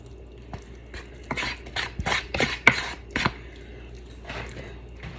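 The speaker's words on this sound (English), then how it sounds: "now we're just going to add the meat to the soup here" Cooked, drained ground beef tumbles into a pot of pasta fagioli soup, a run of soft wet plops and scraping spoon clatters in close succession, fairly quiet with no talking.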